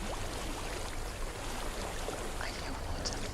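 Flowing water in the video game Hellblade: Senua's Sacrifice, a steady rushing wash like a stream that stays even and fairly close throughout.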